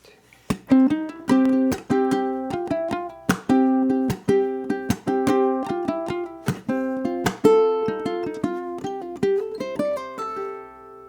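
A ukulele strums and picks the first verse of a song in a quick, bouncy rhythm of sharp plucked chords. The playing is close and clear, with no voices.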